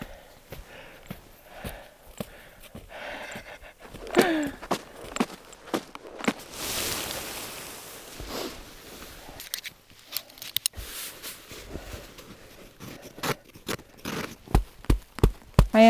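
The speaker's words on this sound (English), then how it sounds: "If you hear the dulcet tones of stomping in the background, this is what you're hearing." Heavy boots stomping and packing down snow while setting up a tent on a winter camping trip at 12°F, a run of close, irregular crunching thuds with brief pauses between steps.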